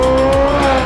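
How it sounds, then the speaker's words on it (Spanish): The engine of a Porsche 918 Spider, a 4.6-litre V8 hybrid with two electric motors, holds a loud, steady high-revving tone with a brief dip in pitch, close and alone. "Sound of the 918 Spider."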